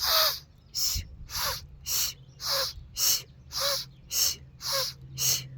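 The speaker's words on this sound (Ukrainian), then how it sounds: "А видих робимо так." Ten forceful breathy exhales in steady rhythm, each a short broadband whoosh about half a second long, loud and close, part of a breathing technique with the air pushed downward.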